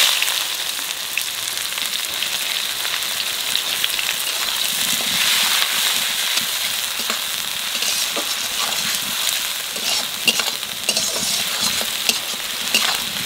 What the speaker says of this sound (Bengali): এইবার পেঁয়াজ দিয়ে দেবো।